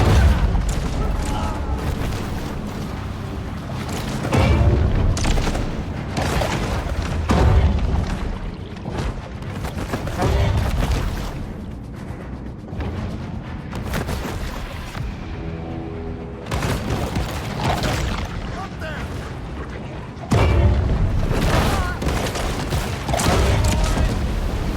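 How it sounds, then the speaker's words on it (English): Shotgun blasts boom repeatedly in a video game, loud, irregular bursts layered over busy game noise and mechanical clatter, with voices talking in between. "Sounds like they're shooting shotguns or something."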